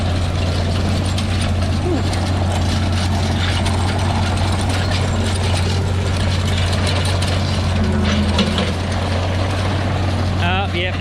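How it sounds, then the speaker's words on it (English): An anhydrous ammonia applicator bar pulled by a tractor drives through wet, hard soil, giving a steady loud mechanical drone with a constant low hum and faint rattling throughout. "You can almost hear the gargle of the anhydrous boiling"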